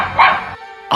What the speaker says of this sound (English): I'll translate. That's Bob telling you to subscribe